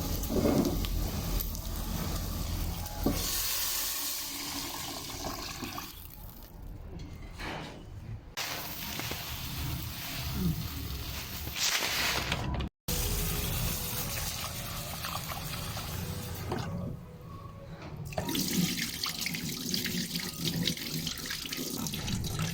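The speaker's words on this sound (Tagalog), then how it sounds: "Hugasan lang po yung ating munggo." A kitchen tap runs steadily over mung beans being washed, giving a loud, continuous rushing stream with shifting splashes and a few brief breaks as the flow changes.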